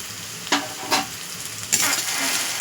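Chopped onions with salt fry in a pan for a homemade tarka, with a steady sizzle broken by a few scraping stirs, close and fairly loud.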